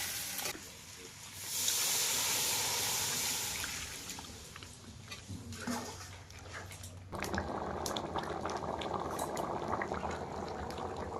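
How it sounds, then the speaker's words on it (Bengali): Duck curry with new potatoes boiling hard in a pot, a steady bubbling and hissing that swells early on and carries on loud and continuous to the end, with no talking over it. "তরকারি কিন্তু টকবক করে ফুটছে"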